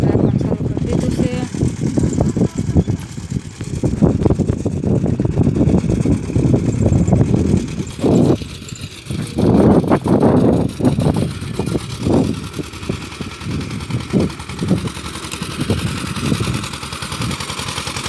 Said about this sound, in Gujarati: તો હવે ટ્રેક્ટર હાંકવાનું શરૂ કરી દીધું છે.